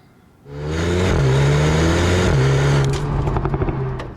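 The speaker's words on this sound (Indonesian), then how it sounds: "letupan-letupan kecil dari knalpot yang keluar dari dua buah lubang knalpot ini" A 2020 Mercedes-AMG A 35 four-cylinder engine revs up loudly and holds a high, steady roar, then drops back with a few sharp crackles and pops from its twin exhaust outlets.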